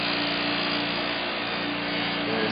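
Fine-grit sandpaper rubs continuously over the surface of a PC liquid-cooling wall reservoir, a steady, dense scratching hiss at moderate level with no pauses.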